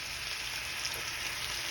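Red wine poured into a hot pan of baked ziti meat sauce gives a steady, bright sizzle and hiss, close and unbroken, with no talking.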